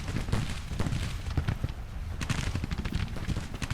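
Infantry firing line volleys in the Grand Tactician: The Civil War strategy game: dense, overlapping musket shots crackle continuously, loud and steady, with sharper bursts standing out near the end.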